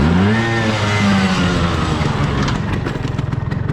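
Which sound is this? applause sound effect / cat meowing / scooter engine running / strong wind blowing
scooter engine running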